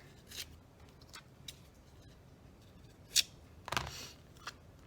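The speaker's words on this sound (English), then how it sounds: "And then I simply just cut them into little strips like this." Scissors cutting paper into little strips for postage-stamp stickers, a few crisp, close snips spaced irregularly against a quiet room.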